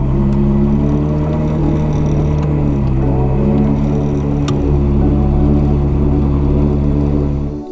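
A Ferrari engine running during a winter road trip, a loud steady low rumble that holds nearly constant for several seconds with a slight rise in pitch midway, close and alone without talking.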